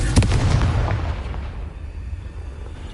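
Confringo fire spell in Hogwarts Legacy bursting with a loud booming blast at the start, then a rumbling tail fading over a few seconds, with no talk.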